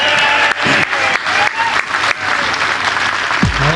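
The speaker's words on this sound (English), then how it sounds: "give a round of applause for James Glancy" Loud crowd applause at a Brexit Party political rally in Newton Abbot, a dense, sustained wall of clapping lasting several seconds with a brief low thump near the end.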